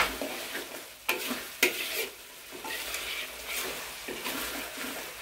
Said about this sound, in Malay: Kita tumis sekejap biar dia betul-betul sebati.